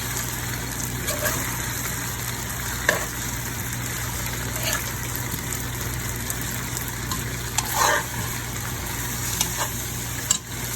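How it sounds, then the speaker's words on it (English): Fish fries in a pan for Vietnamese sour soup with a continuous close sizzle, broken by occasional spatters and the scrape of a utensil, and no talking. "So and continue to fry this fish."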